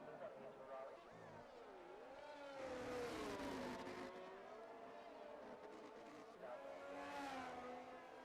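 A Haas F1 car in an F1 racing game on the Hungarian circuit whines with a shifting engine pitch as it brakes and downshifts, its tone dropping and rising again, with commentary over it.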